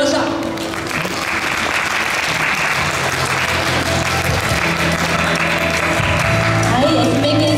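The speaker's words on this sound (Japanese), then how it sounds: "大きな拍手をお願いいたします" An audience claps after a singer-songwriter's live song at a supermarket event stage. The applause is loud and steady and lasts the whole stretch, with faint tonal background sound from the venue underneath.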